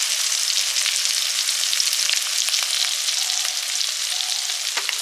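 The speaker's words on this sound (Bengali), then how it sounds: "আরও কিছু চুনো মাছ ভাজা হচ্ছে।" Small chuno fish sizzle steadily in hot oil in a home kitchen, a dense, even crackling hiss that holds close and constant with no voices.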